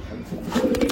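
Pigeons from a collection of Malwai and Andha breeds give soft, low throaty coos close by over a faint background hiss, lasting about a second.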